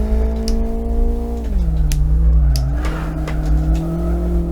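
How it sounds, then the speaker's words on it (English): Car tires screech in a sustained sideways slide in the Live For Speed racing game, over a steady engine drone that dips in pitch and then climbs again, loud and close with no talking. "Get a bit of sideways screeching of the wheels."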